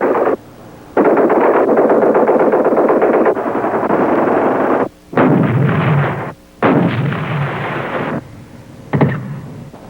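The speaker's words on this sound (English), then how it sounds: "we'll cover them with suppressive fire from armored vehicles" Armored vehicles lay down heavy suppressive fire in a combined-arms battle, with long, loud, dense bursts of automatic gunfire broken by brief pauses and a final short burst, up close and dominating.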